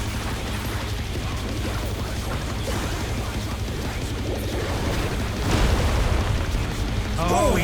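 Explosions from the Neo Bombardian Special attack in Final Fantasy XIV: a steady, dense roar of blasts and mechanical clatter that swells into a louder burst near the end, with game voices over the top.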